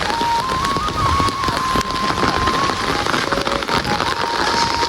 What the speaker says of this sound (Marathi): रात्रीपासून पाऊस तर सुरू आहे.